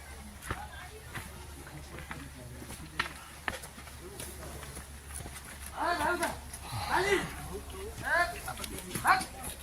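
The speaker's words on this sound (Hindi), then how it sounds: "घोड़े भी बहुत कम की संख्या में।" Horses' hooves clip-clop along at a steady walking pace on the Panch Kedar trek to Rudranath, growing louder and closer toward the end, with people talking in the background.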